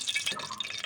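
White cooking oil poured into a pan for a gadal leaf recipe, a brief close trickling liquid pour with a bright splashy texture.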